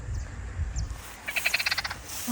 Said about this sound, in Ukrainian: Прикольно, жаби з'явилися.